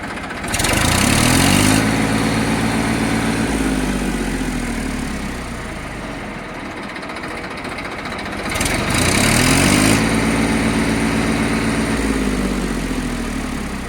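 A Massey Ferguson 1035 tractor engine runs steadily at idle, loud and close, with a low harmonic drone that dips and swells as the revs shift slightly, no voices over it.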